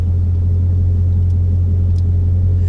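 A Dodge Challenger Scat Pack's engine idles steadily up close, a deep, loud, constant rumble with no voices over it.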